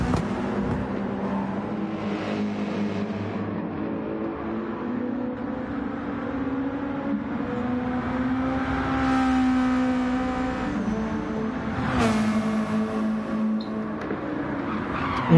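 A GT2 race car engine in a racing sim at Goodwood and Brands Hatch drones steadily and close, its pitch rising and falling through revs and gear changes, with a brief tire skid near the end.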